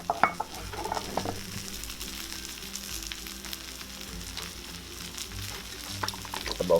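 Chopped garlic hits a heated crock pot already holding mushrooms, producing a steady soft sizzle with occasional utensil clinks and stirring scrapes close by.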